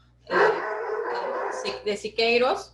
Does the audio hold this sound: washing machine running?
no